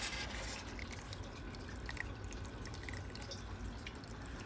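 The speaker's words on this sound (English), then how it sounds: "Then the water drains in here." Water trickles and drips steadily as it drains into a lava-rock bed of an aquaponic system, a continuous soft flow with small splashes over a low background hum.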